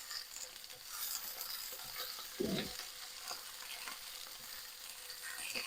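Red curry sausages frying in a pan, a continuous close sizzle and crackle of hot fat with one brief knock of a utensil stirring partway through.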